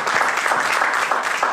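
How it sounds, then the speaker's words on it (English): Applause for the panelists at a student debt panel during the 2024 DNC, a dense steady clapping of a crowd that fills the whole moment. "please give a round of applause to our fabulous panelists today"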